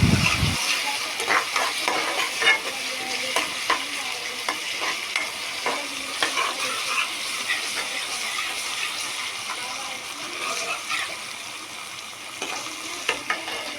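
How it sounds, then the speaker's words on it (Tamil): Ginger garlic paste and onions sautéing in a pan, a steady close sizzle with repeated stirring scrapes and spoon clinks running throughout, no talking. "நல்லா இஞ்சி பூண்டு பேஸ்ட் வெங்காயத்தோடு கலக்கிற மாதிரி நல்லா வதக்கி விட்டுக்கோங்க"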